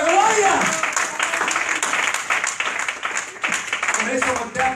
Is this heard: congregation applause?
yes